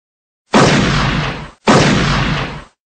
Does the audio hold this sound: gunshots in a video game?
yes